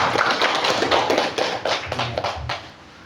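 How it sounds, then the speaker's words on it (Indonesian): An audience applauding at a teachers' competency competition, a dense patter of many hands clapping fairly close, tapering off toward the end, with no voices on top. "Tepuk tangannya."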